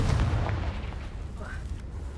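Confringo fire spell explosion in the Hogwarts Legacy video game, a heavy booming blast at the start that rumbles and decays into a low roar, with a voice briefly speaking over it.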